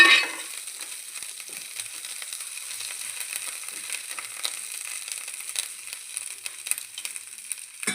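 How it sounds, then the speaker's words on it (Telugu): Mint chutney ingredients deep frying in oil give off a steady, bright sizzle with fine crackles and small pops, constant and close throughout, with a slightly louder stir or clatter at the start. "ఇక్కడ పచ్చి సనం పోయే వరకు కొంచెం డీప్ ఫ్రై చేయాలండి."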